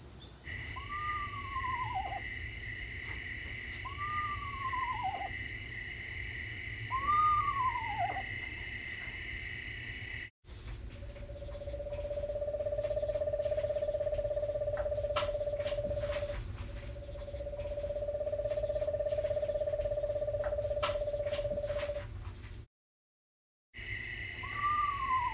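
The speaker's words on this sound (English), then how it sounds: "Let's take a listen to the screech owl here for a minute." Several descending whinny-like calls of a screech owl in the wild in northern Indiana, repeated every few seconds, clear at moderate distance, followed by long steady trilling tones, with no talking.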